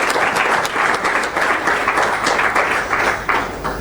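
Keynote audience applauds steadily and loudly, a dense wash of many hands clapping that holds its level for several seconds without pause.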